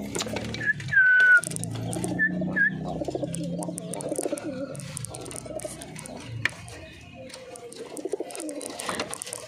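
Pigeons coo in low, soft, repeated throbs close by, with a few thin whistle-like notes early on and faint background rustling throughout.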